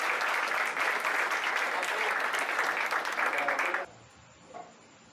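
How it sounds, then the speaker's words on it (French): Audience applause at a talk about trading, steady dense clapping that stops abruptly near the end, leaving a quiet room with a faint brief sound. "je voulais profiter pour que vous applaudissiez aussi"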